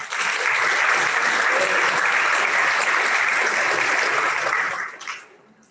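Sustained applause from a hospital information-evening audience, dense and steady for about five seconds before quickly dying away.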